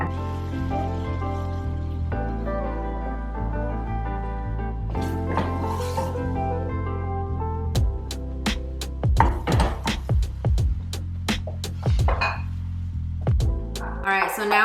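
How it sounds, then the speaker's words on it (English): Strawberry jelly is stirred in a pot on the heat, with a spoon clinking and scraping against the pan in quick repeated taps over a background hum, louder toward the end. "and then I'll come and stir it."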